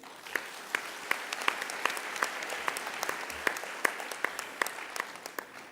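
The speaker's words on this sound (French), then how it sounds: "On peut l'applaudir." An audience claps at a youth eloquence contest prize ceremony, a modest, somewhat distant round of applause with a few sharp individual claps standing out over a steady patter.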